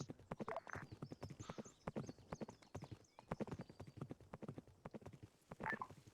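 Horse hooves clip-clop steadily in a military game operation, a quick, continuous rhythm of soft hoofbeats, fairly faint, with no talk.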